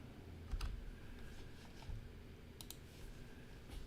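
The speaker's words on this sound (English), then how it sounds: "now I can type in my diameter of 35" A short burst of key presses on a computer keyboard entering a number into CAD software, a few faint clicks against a steady hum, with no talking.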